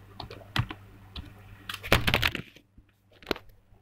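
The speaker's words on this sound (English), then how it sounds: "I'm just going to type that into the thread." Scattered keystrokes on a computer keyboard, a few irregular clicks followed by a quicker cluster, close and fairly quiet, with no talking.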